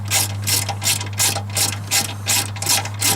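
Hand ratchet loosening an 8mm or 5/16 battery hold-down bolt on a car: a steady series of quick clicking strokes, close and clear, in regular rhythm with no talking.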